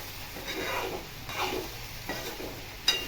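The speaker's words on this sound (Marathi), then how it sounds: "आता आपण ही चांगली हलवून घेऊ।" Cooked okra bhaji is turned in a pan with a few soft, close scraping strokes over a faint sizzle, ending with a small metallic clink.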